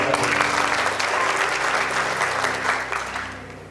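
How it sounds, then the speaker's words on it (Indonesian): An audience applauds at a scholarship briefing event in Jayapura, many hands clapping steadily and loudly, then slowly thinning out, with a faint voice beneath. "saya sekali lagi tepuk tangan untuk"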